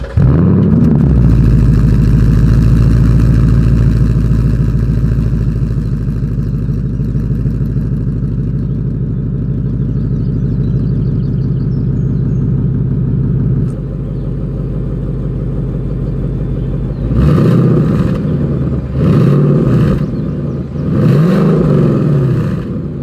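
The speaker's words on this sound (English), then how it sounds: "let's go ahead and do that exhaust clip" A 2020 Ford Mustang GT idles with a loud, deep, steady exhaust burble for most of the stretch, dips slightly, then bursts into several sharp throttle revs that rise and fall back toward idle.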